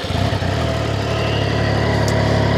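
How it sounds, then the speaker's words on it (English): A Triumph Trident 660 motorcycle with its standard exhaust runs steadily after firing up, a close, even, moderately loud engine note with no talk over it. "The exhaust note on it, I'll fire it up just so you can hear it."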